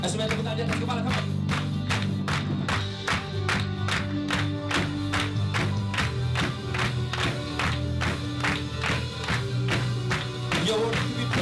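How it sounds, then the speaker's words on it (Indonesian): Church worshippers clap in time above their heads, with regular, crisp beats driven along by loud praise music and a lively crowd throughout. "Semuanya tepuk tangan di atas kepala"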